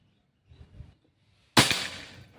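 A single sharp crack from a Pajero Gun Gen 5 PCP air rifle, close and loud, trailing off quickly after a few faint handling sounds.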